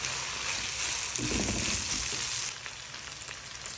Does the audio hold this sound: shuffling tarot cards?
no